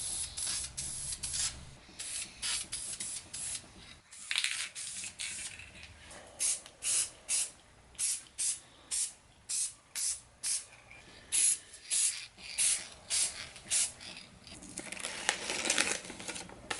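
Spray paint hisses onto silver jetpack pieces to turn them red, first in longer blasts, then in a regular series of short bursts close to the mic, with faint rattling between them.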